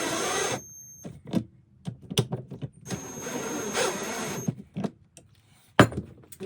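Screws being tightened while mounting a Dynafit alpine touring binding, heard as sharp clicks and short bursts of whirring driver noise separated by quiet gaps.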